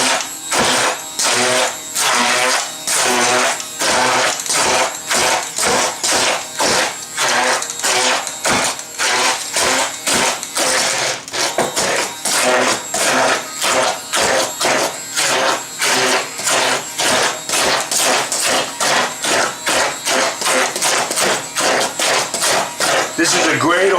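A food processor chops cauliflower and garlic for a mash in a series of rapid, sharp pulses, loud and close, continuing in a regular stuttering rhythm throughout with no one speaking.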